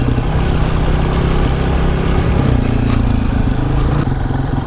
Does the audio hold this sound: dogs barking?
no